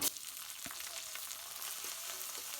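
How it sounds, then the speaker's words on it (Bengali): Onion, chili and garlic hit hot oil in a wok for a mustard greens fry, a sharp burst followed by a steady, soft sizzle that stays fairly faint, with no talking. "তেল গরম হয়ে গেছে পেঁয়াজ মরিচ রসুন দিয়ে দেব"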